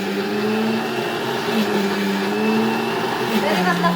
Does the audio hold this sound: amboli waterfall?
no